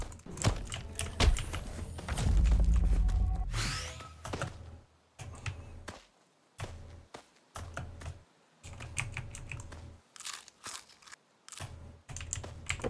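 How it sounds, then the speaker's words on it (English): Rapid, busy mouse and keyboard clicking while playing the video game Muck, dense bursts of clatter running throughout with a few louder thumps near the start. "Going ham with the clicking."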